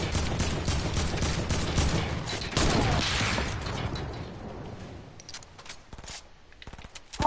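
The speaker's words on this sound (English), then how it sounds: "I'm getting sniped. I'm getting shot" Rapid gunfire crackles in a Fortnite match, dense bursts of automatic fire for several seconds before thinning into scattered separate shots and clicks toward the end.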